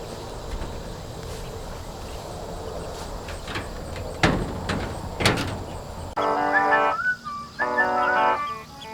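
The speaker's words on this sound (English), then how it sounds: "Now you can open the door." A door on an A-frame chicken tractor in a pasture of meat birds opens with a few sharp clunks and rattles, close by over faint outdoor ambience, before birds start chirping near the end.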